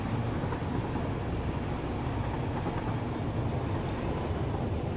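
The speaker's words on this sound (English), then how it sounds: "Backwards on a train." Train in the game Satisfactory running continuously with a dense, rumbling rail noise and a faint high squeal appearing partway through.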